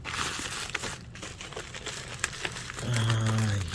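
Packing tape crinkles and crackles as it is handled over arcade circuit boards, a close, steady rustle with sharp crackly bursts, ending with a louder low hum-like buzz near the end.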